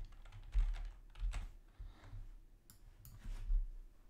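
Quiet bursts of typing on a computer keyboard during a Photoshop session, soft clustered keystrokes coming in a few short runs with pauses between them.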